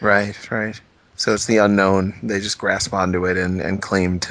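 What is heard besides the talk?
No distinct noise like a dog, phone or traffic.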